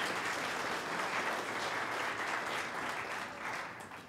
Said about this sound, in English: So let's give ourselves a big round of applause.